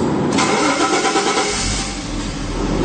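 A Jaguar XJ6 XJ40 Sovereign with its original engine and 142,000 kilometres fires up: a short cranking whir that catches into a steady mid-pitched engine hum, loud and close throughout.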